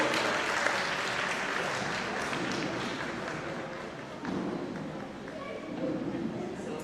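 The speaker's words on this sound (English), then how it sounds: "Can we have a big round of applause?" A crowd applauds in a sustained, even clatter of many hands after a robot demonstration at a university education fair and cultural fest, with some murmuring voices mixed in throughout.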